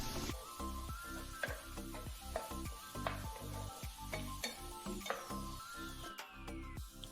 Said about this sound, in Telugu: ఉల్లిపాయలు బాగా వేగాయండి అక్కడ